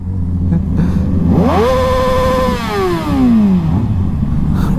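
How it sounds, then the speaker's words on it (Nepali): A motorcycle with a loud exhaust, ridden in Sydney, revs up sharply once. It holds a high engine note and then winds back down, loud and close over steady idle rumble. "लास्ट एक्जस्ट लाउड रहेछ क्या यसको"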